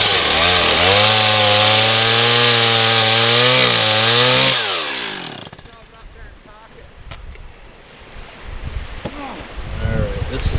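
A chainsaw cuts through a Douglas fir firewood log, loud rising and falling engine whine under load for several seconds, then cuts off, leaving quiet outdoor ambience and faint handling noises.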